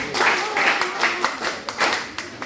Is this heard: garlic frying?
no